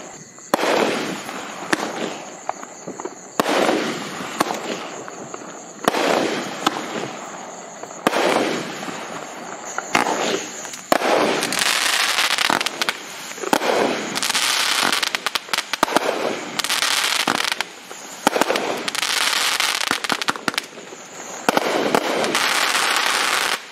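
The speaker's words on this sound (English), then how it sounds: "Finish with a 4 shots finale of gold palm tails" A fireworks cake fires its four-shot finale of gold palm tails changing to gold and green, a run of repeated loud bursts and crackling shells in quick succession with no voices.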